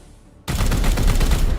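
A sudden, loud burst of gunfire erupts after a short quiet lead-in in the Chaos Gate video game, played on Legendary difficulty. The shots blend into a dense, sustained volley lasting just over a second.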